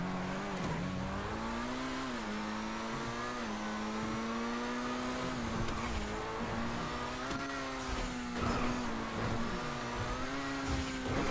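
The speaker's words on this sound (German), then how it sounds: "Geiles Auto, man. Richtig geiles Speed." A car engine in GTA 5 revs continuously and loudly, rising and falling in pitch as it accelerates, with a faint tire squeal along the way.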